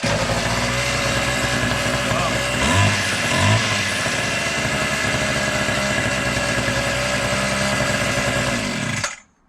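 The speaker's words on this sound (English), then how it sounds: "This thing is running like a brand new." A small two-stroke edge trimmer engine, freshly fitted with a new fuel line, runs steadily at idle with no throttle, a loud continuous buzzing drone close by that cuts off abruptly at the end.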